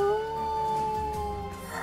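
Dog howling in the video game Wargroove, a long, steady drawn-out tone held for nearly two seconds over a faint game background, with no talk.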